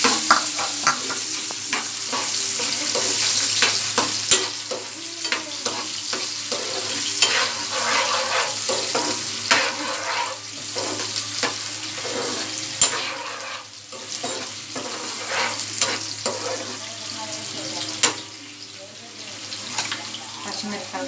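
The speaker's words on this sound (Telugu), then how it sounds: "నూనె వేడైంది. ఇప్పుడేమో ఉల్లిపాయలు వేసుకోవాలి." Sliced onions hitting hot cooking oil in a pan, a continuous loud sizzle and crackle with scraping stirs throughout.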